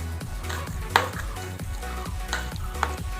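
Chicken momo filling seasoned with turmeric and garam masala is mixed in a bowl, giving soft, wet squelching and stirring sounds in an uneven rhythm with a few sharper knocks, close and moderately quiet.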